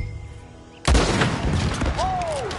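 A loud gunshot boom in Red Dead Redemption 2 breaks a quieter musical background, followed by a rolling echo and a scattered burst of gunfire with a rising whistle.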